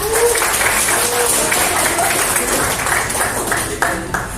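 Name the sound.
class applause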